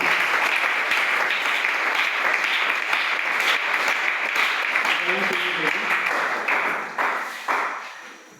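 A church congregation applauds steadily through the whole stretch, a dense close wash of clapping with a few louder claps standing out near the end as it starts to thin.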